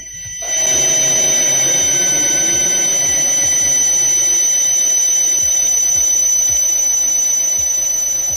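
An electric motor driven by an LS S100 variable frequency drive gives a steady, loud tonal whine with a thin high ringing tone, held unbroken for the whole stretch after a brief quiet start.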